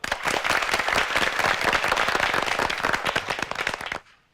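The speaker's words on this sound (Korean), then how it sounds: "네, 박수로 함께 해주시죠." Audience applause at a televised high school debate competition as a student speaker comes forward, dense sharp clapping from a sizable crowd, loud and sustained for about four seconds before cutting off abruptly.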